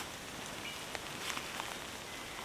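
Rain pattering steadily on a hammock tarp during a thunderstorm while camping, a dense soft hiss with a few sharper drop taps, fairly faint and close overhead, no talking.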